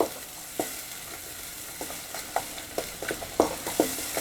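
Ground masala paste of garlic, ginger and green chilli sautéed in a little oil in a pan for Pune-style matar usal, giving a soft steady sizzle broken by sharp spatula scrapes and taps that grow busier toward the end.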